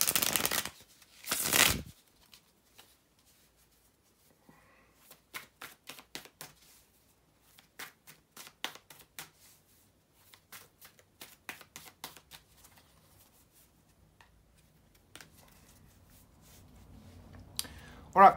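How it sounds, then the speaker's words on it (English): A deck of tarot cards is riffled twice loudly, then quieter bursts of shuffling and card clicks follow in short irregular runs. "bear with me just a couple of seconds here, guys, to shuffle the tarot cards"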